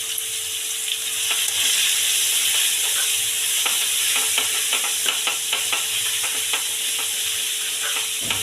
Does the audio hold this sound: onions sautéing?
yes